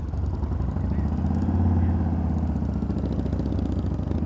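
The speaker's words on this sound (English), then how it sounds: "Put it in gear, Joe." Orange County Choppers custom motorcycle engine rumbling steadily close by as it is put in gear for a test drive, a continuous low throbbing idle with no break.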